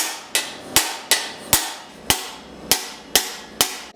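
Bearing races are driven into the frame of a 1999 KX250 two-stroke motorcycle with eight loud, ringing hammer blows, evenly spaced about half a second apart and each decaying quickly.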